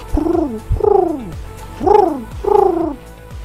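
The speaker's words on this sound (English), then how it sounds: "you can also hear the quaint sounds of pigeons" Four soft, throaty coos from a pigeon sound close by at a steady, unhurried pace, with quiet background in between.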